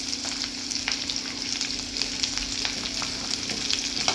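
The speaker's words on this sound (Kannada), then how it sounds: "ನಂತರ ಇದು ಈರುಳ್ಳಿ ಕೂಡ ಚೆನ್ನಾಗಿ ಫ್ರೈ ಆಗಬೇಕು." Chopped onion sizzles steadily in hot oil alongside roasted peanuts, a continuous crackling fry with occasional stirring scrapes, close and even throughout.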